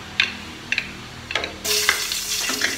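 Fish frying in a pan, with a few sharp clicks and splashes, then a sudden loud burst of sizzling that keeps crackling steadily to the end.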